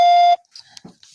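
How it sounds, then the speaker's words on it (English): A single steady electronic beep on a phone line sounds at the start of a call, loud and even, lasting about a third of a second. It is followed by faint low noises and small clicks. "Press 1 to start the call or the call will start at the beep."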